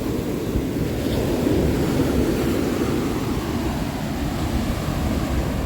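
Sea waves wash continuously onto the shore, a loud, steady roar of surf mixed with wind buffeting the microphone, with no voices.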